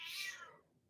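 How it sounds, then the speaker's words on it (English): A pet cat gives a single faint meow in the background, a brief drawn-out call that fades quickly into quiet. "Apologies for my cat meowing in the background."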